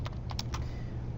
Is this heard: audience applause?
no